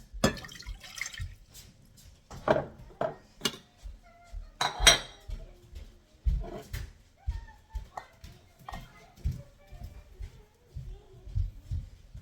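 Water is poured into a cooking pot on a kitchen stove, with repeated clanks of metal pots and utensils and splashy drips scattered across the stretch.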